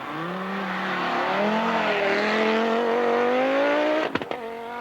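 A Peugeot 205 Turbo 16 rally car at the 1985 Monte Carlo Rally, its engine holding a loud rising whine on snow as it passes close. Near the end it cuts sharply with a couple of abrupt bursts.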